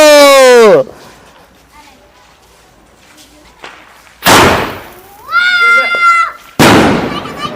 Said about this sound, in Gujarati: સરસ મજા કાકા ફટાક્યો ફોડે છે